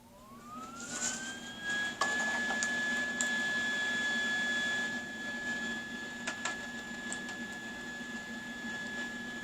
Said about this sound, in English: Now we'll take out the old welder here.